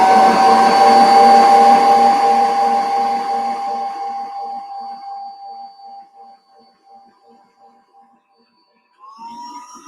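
Stand mixer kneading brioche dough for a king cake, its loud, close motor whine ringing steadily before winding down and fading to near silence, followed by a short burst of noise.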